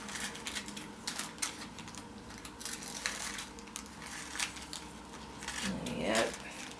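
Scissors cut Decopatch paper in a string of soft, close snips and crisp rustles that repeat irregularly, with a louder paper crinkle near the end.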